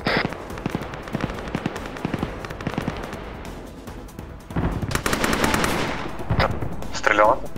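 Rapid bursts of automatic gunfire and single shots crackle through an ArmA 3 infantry battle, some close and sharp, others more distant, with voices chattering over the shooting.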